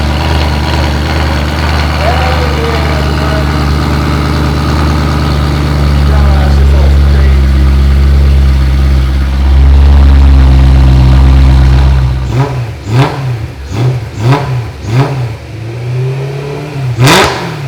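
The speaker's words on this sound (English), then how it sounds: "that shit sounds crazy. Stock exhaust, just the X-pipe" A BMW E92 M3 running a stock exhaust with only an X-pipe added, idling loudly and then revving hard in a rapid series of sharp blips close by, with a dog barking and a voice over the engine.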